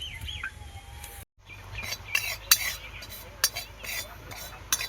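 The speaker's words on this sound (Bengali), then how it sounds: "প্রথমে পোস্তটা ভেজে নেব হালকা একটু ভেজে নেব" Poppy seeds (posto) lightly frying in mustard oil in a pan, stirred with a utensil: faint scattered clinks and scrapes over a soft sizzle, with a short gap of silence early on and birds chirping in the background.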